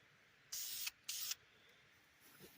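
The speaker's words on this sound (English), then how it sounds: "Sure we're spraying out good, don't want any clogs or any spitting or anything like this." Spray paint hisses from a can onto a Power Rangers Turbo Morpher toy outdoors in two short close bursts, with a faint third puff at the end.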